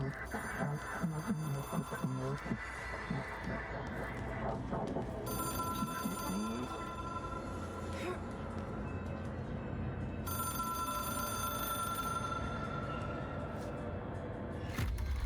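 An old telephone in the video game Control rings in repeated bursts with short gaps between them, sounding over a continuous game soundscape and distinct voices.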